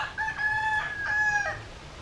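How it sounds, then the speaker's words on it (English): A rooster crowing in Iloilo, Philippines: two clear, tonal crows in quick succession, moderately close, over quiet background hum. "even the rooster's having a good time"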